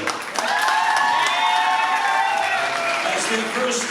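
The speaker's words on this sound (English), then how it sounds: "let's give them a big round of applause to make their way" Wedding guests clap and cheer for the newly married couple as they head to the dance floor, a loud, sustained burst of applause with a tonal sound drifting over the crowd.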